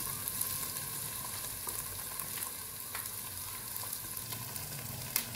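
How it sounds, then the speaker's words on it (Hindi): Garlic and ginger frying in a pan for a home-cooked desi dish, heard as a steady, close crackling sizzle with small pops and occasional stirring, lasting the whole stretch with no talking. "यहाँ पे लहसुन अदरक अच्छी तरह से मैंने भून लिया"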